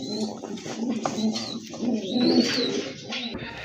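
A pair of pigeons coo close by, several soft, throaty rolling calls in quick succession with faint background noise.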